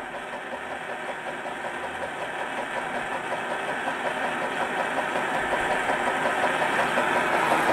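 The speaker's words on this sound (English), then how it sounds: "Yeah, interesting little engine." A small Robinson Stirling engine runs steadily on its own, a dense close mechanical hum that builds gradually louder and fuller across the stretch, with no voices over it.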